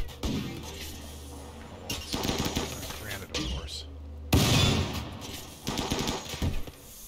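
Gunfire in the Vikings of Carpathia video game, bursts of rapid automatic shots and sharp impacts in several clusters, loud and close, with a voice talking over parts of the action.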